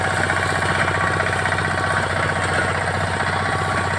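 A four-wheel reaper binder harvesting wheat runs its engine in a field, a loud, steady mid-pitched chug and vibration throughout with no voices.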